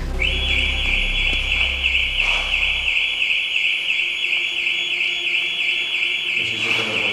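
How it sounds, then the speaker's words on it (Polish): A car alarm sounds as a loud, continuous high-pitched electronic tone, held steady for several seconds over faint low background rumble. "nie wiedziałem, że mój samochód ma autoalarm"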